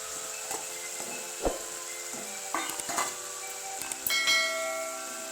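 Koi fish go into hot spiced oil in a pan for tel koi, a quiet sizzle with scattered crackles and a few light metallic clinks of utensils against the pan.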